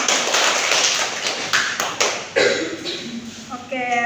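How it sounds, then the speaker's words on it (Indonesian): A primary-school class applauds a pupil with a brief burst of scattered clapping, followed by classroom talk and faint tapping. "Beri aplaus untuk temannya."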